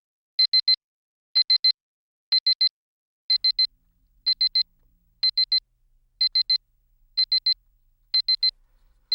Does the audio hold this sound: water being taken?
no